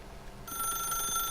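A telephone in The Stanley Parable starts ringing partway through, a bright electronic trill that sounds steady and close after a brief quiet start.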